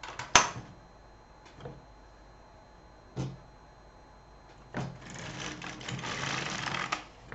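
Carriage passes of an LK150 knitting machine knitting a row of very fine yarn: a sharp clack, then soft sliding rattles with clunks at intervals and a longer rasping run near the end, close and moderately loud with no voices.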